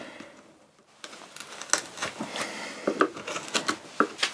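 A chisel chopping waste out of pine along a gauge line, a series of sharp, close knocks and crunching cuts at an uneven pace, each short and distinct, with quiet pauses between.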